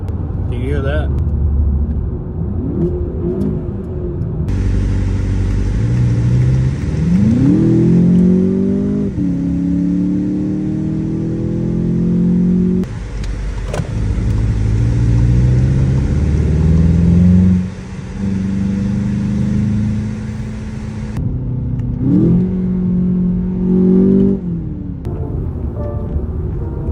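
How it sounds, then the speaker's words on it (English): A stock Volkswagen Jetta GLI engine revs and accelerates, its pitch rising and falling in several surges, loud and close, with a steady rumble throughout. "So yeah, the car does have pretty decent sound."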